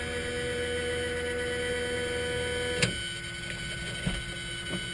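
Steady electric whine and hum of a fuel boost pump in an Enstrom F-28F helicopter before a hot engine start, constant and fairly close, with a few light clicks near the end and no speech.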